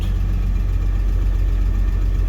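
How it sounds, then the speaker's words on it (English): A car engine idles steadily after a cold start on a freezing day, with the choke switched off. The low, even rumble is loud and close and runs without a break. No one speaks. "I think the engine is warmed up enough that it'll idle without being choked"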